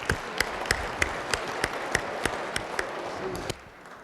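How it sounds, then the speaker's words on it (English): West Virginia legislators in session giving a round of applause, a few sharp, evenly spaced claps in a slow rhythm over a murmuring room, stopping suddenly near the end. "Please give him a round of applause."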